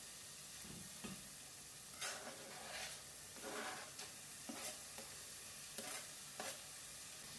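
Garlic dropped into a hot pan for Spanish lentils sizzles steadily, with several brief louder bursts of frying and stirring scrapes rising over a constant background hiss.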